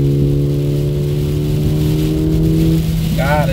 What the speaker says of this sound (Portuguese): Dá mais uma aceleradinha aqui,